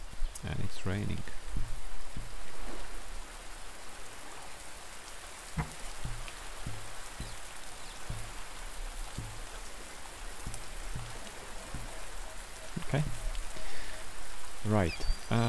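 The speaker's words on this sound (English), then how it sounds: "And it's raining." Steady rain falling in the survival game Under A New Sun, an even hiss of drops throughout with a few short clicks and scattered bursts of other game sounds, heard alone without talk.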